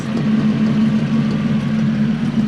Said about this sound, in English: I'm hearing exhaust leaks